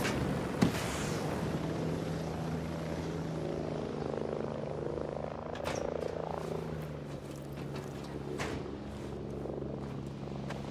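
Helicopter rotor drone from a Ghost Recon Breakpoint battle, a steady low throbbing hum sustained throughout with sharp gunfire-like cracks scattered over it, no voices.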